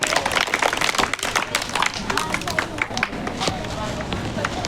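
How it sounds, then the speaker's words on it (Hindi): A children's audience at a Children's Day celebration claps loudly, a dense burst of applause that thins out over a few seconds, with crowd chatter mixed in. "जोरदार तालियों से इनका मनोबल बढ़ाएं"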